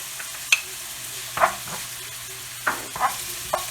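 Minced onion and garlic sauté in a pan for beef and broccoli, a low steady sizzle punctuated by several sharp spatula scrapes and clinks at irregular intervals.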